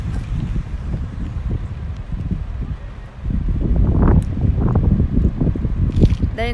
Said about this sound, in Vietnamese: thấy trời mưa trời gió quá trời